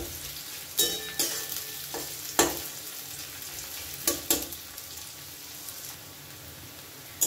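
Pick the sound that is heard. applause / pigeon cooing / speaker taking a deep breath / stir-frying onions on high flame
stir-frying onions on high flame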